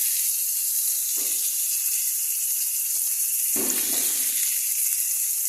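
Beet and carrot frying in a pan for navratan korma give a steady high sizzling hiss throughout, with a couple of brief louder stirring or clattering bursts, close and without talk.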